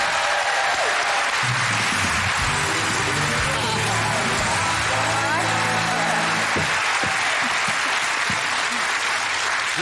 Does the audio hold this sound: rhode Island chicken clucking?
no